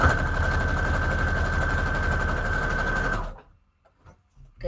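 A sewing machine stitches paper scraps together in a rapid, loud, steady mechanical chatter close by, then stops abruptly, leaving near silence with faint small handling noises.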